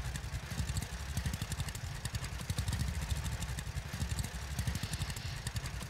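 Gas-burning tractor engine in the Farmers Dynasty farming game chugs steadily with a fast, rhythmic loud knocking putter, continuous and close with no talking.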